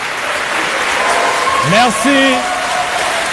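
An audience applauds at a French competition event, a dense steady clatter of clapping that runs throughout while a nearby voice briefly says thanks over it.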